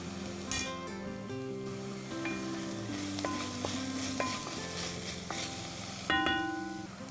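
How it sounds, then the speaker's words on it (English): Minced garlic sizzles in a pan while being stirred, a soft crackling fry with clinks and scrapes of the utensil against the pan, heard alone. "We're gonna mince the garlic, cook and stir for 1 minute."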